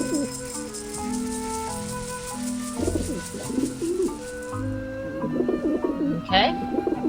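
Pigeons coo repeatedly in Grim Fandango, their soft warbling calls layered over steady background music, with a brief bright chirp near the end.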